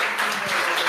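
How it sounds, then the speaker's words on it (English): Brief burst of applause from an audience at a biomedical knowledge graph talk, dense clapping filling the short moment at moderate loudness with no voices over it. "Give him a big round of applause."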